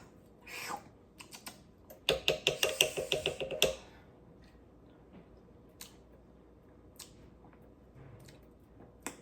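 A spoon stirs lasagna sauce in a cooking pot, giving a quick run of about eight close, rhythmic clinks and scrapes, with quieter isolated taps before and after.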